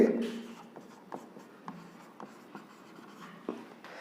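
Writing on paper while working a cost price and selling price arithmetic problem: a steady series of short, close scratching pen strokes at a loose, regular rhythm, heard alone without talk.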